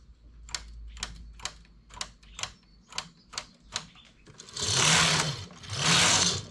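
A knitting machine carriage clacks through a row in a quick run of sharp ticks, followed by two long, loud sliding swooshes, close and alone.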